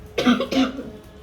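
Two quick, close coughs follow one another, clear and fairly loud, then quiet.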